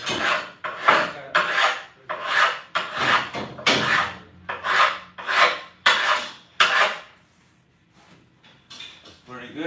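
Rough stone being beveled along its edge for masonry work, a series of about a dozen loud, rhythmic rasping strokes close by, with no talk over them, then quieter scraping at the end.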